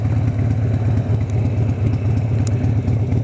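Motorcycle engine idling in neutral, a steady close low rumble with even pulsing throb and light mechanical clatter throughout.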